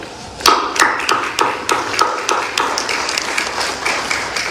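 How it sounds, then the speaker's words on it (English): Audience at a formal peace agreement ceremony in Pretoria, South Africa, applauds two ambassadors: a few sharp individual claps at first, quickly swelling into steady, sustained applause filling the hall. "may we give them a round of applause"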